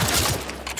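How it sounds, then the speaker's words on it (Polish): A rapid burst of gunfire rings out in The Last of Us Part II, several close, loud shots fired in quick succession over less than a second. "Oj, za dużo tych strzałów, Eli."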